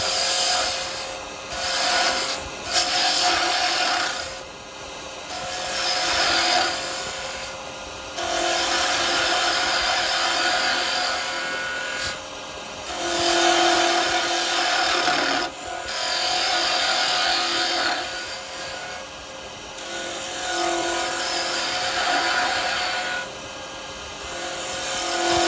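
Chisel cutting a small wooden Christmas tree on a spinning wood lathe, the tool rolled over for a smooth finish: a steady broadband scraping hiss that swells and eases in long strokes throughout, close and fairly loud, with no talking.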